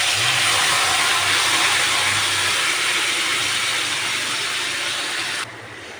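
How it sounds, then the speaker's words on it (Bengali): Marinated goat mutton drops into hot oil tempered with dried red chillies, cinnamon and cardamom, giving a loud, steady, close sizzle that holds for several seconds and then cuts off abruptly near the end. "এখন আমি যে মাংসটা মেখে রেখেছিলাম সেই মাংসটাকে দিয়ে"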